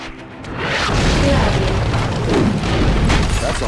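A bridge being destroyed in the PS2 Eragon game rolls out as a heavy, sustained rumbling boom with crumbling debris, loud and continuous for several seconds with voices mixed beneath.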